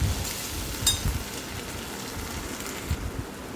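Ginger-garlic paste and tomato paste stirred in a hot pan while cooking prawn curry, giving a steady close sizzle with soft scraping throughout and a couple of brief clinks, no talking.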